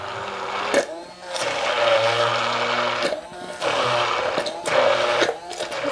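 An immersion blender whirs through a cream cheese mixture with apple cider vinegar, running in steady bursts that stop and restart several times over a few seconds, close and fairly loud.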